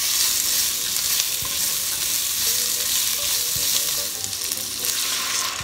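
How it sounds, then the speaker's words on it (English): Steady, loud sizzling of onion, garlic and ginger sautéing in a pan, with occasional scraping and stirring clatter throughout. "Add the ginger and sauté for another minute."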